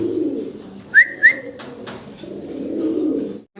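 Pigeons in a loft, with a soft low murmur of cooing under a couple of short bright calls and a few clicks, close and fairly quiet.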